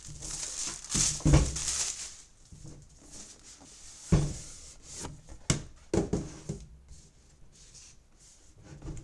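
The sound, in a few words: cutting plastic wrap off Mavic 2 Pro drone packaging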